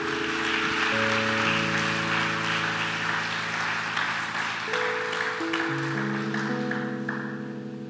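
A church congregation claps in sustained, broad applause that carries on under held keyboard chords, gradually easing off toward the end.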